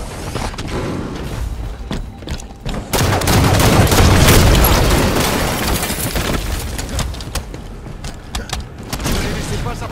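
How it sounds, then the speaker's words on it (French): In the shooter game Halo 5, a grenade goes off with a loud, heavy boom that swells and rumbles for several seconds, with crackling gunfire and mechanical clatter before and after it, and no talking. "Grenade ennemie."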